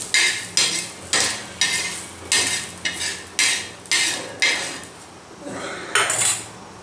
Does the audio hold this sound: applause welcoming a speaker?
no